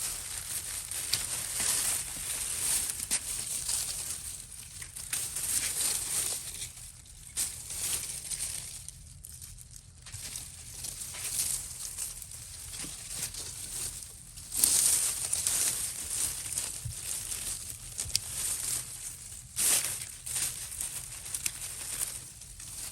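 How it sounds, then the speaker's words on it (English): Dead vines being pulled out of a summer-damaged Arizona garden, a run of dry crunching, crinkling and tearing rustles close by, coming in bursts with brief pauses. "the rest of the vines can just sort of be pulled out"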